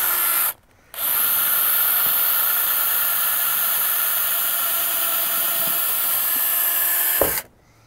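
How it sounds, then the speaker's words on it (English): High-pitched whine of a power drill drilling holes in a tire, running continuously for several seconds, with a brief pause near the start before it stops at the end. "So you go get your drill"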